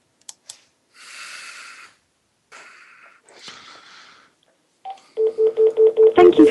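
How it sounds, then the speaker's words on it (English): A phone keypad is pressed to enter a PIN for a call-in line, giving a few short clicks and then a quick run of about seven loud, evenly spaced DTMF tone beeps close up, with no talking. "I did not hear you press at least 4 digits of your PIN number."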